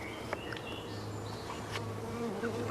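Honey bees buzz around a hive nucleus with a small entrance hole, a continuous close drone with individual bees whining past at varying pitches.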